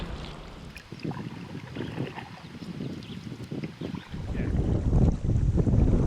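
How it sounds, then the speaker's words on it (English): A canoe on a northern expedition slips through a gentle class 1 swift on a river. Rushing water and hull splashes are heard under heavy wind buffeting, and the sound grows louder and denser toward the end. "it's just nice to go through some moving water and get off the big lake for a minute here"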